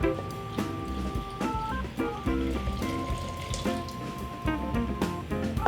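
Warm water runs from a tap for whole grain bread dough, a steady splashing stream whose pitch shifts as the vessel fills, close and fairly loud with a few clunks from the sink.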